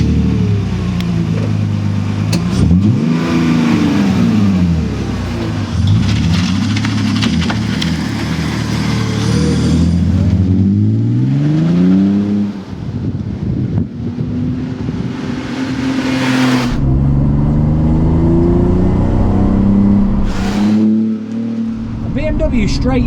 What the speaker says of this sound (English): BMW straight six sounds amazing.